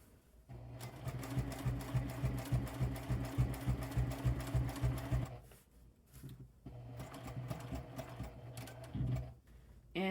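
A sewing machine stitches a seam on a DIY dry bag, running steadily for about five seconds, pausing briefly, then starting again in another sustained run, close and fairly loud.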